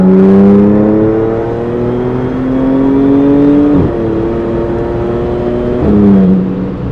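A BMW M4 revs hard against two-step launch control at a car meet, holding a loud, steady engine drone that stutters and crackles twice as the revs bounce off the limiter.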